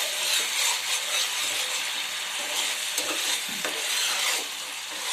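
Tamarind rice mixture bubbles and sizzles in a pan up close, a continuous crackling simmer with oil rising to the surface and faint stirring scrapes, no voices over it.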